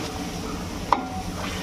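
Chicken curry cooking with a cup of yogurt stirred in makes a low, steady bubbling sizzle and a single faint utensil tap midway, heard close with no voices.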